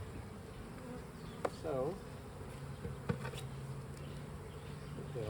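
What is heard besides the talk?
honey bees buzzing around an open beehive during inspection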